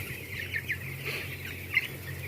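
Chickens in colony rack cages cluck in a few faint, soft calls over a steady low hum of poultry-house ventilation.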